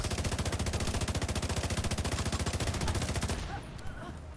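Rapid automatic gunfire in The Division 2: a steady, evenly spaced stream of loud, close shots for about three seconds, then stopping abruptly with faint background noise after.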